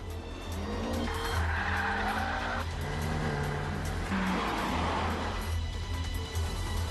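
A Renault Twingo RS engine revs hard while tires squeal and skid in long screeching bursts, close and loud.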